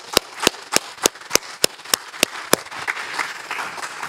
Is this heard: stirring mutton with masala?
no